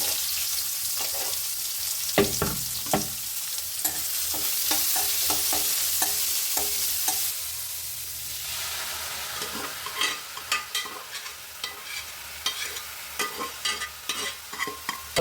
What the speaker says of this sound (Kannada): ಒಗ್ಗರಣೆ ಮಾಡ್ಕೊಳ್ಳೋಣ.